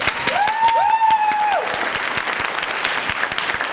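Audience at a Plymouth Canton meeting bursts into steady applause, a dense wash of clapping that carries on throughout, while a brief whistle-like tone rises and falls near the start.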